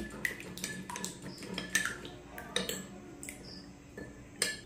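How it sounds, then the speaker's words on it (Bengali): A spoon clinks and scrapes against a bowl while food colour is mixed into pitha batter, making a string of light taps and rattles with small wet sounds between them, close and quiet. "এখন এই কালারটা খুব ভালো করে এই ব্যাটারের সঙ্গে মিশিয়ে নিতে হবে।"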